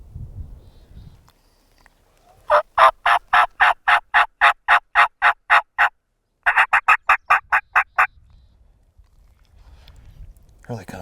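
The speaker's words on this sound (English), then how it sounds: "Those birds just gobbled up in the head of this draw." Wild Merriam's turkeys gobble in mountain brush, a long rapid series of loud rattling gobbles in two bursts, with faint murmured talk before and after.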